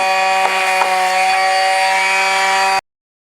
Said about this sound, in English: we're going to sand this down.